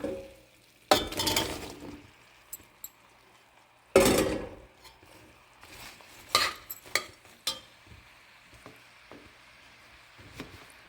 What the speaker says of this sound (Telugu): ఇప్పుడు ఉల్లిగడ్డలు వేగినాయి, బీరకాయ ముక్కలు వేసుకుందాము